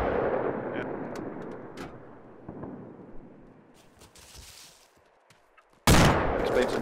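A minigun in the Arma 2 video game roars into a sudden loud continuous burst near the end, after a stretch of distant rumbling and scattered shots that fade almost to quiet.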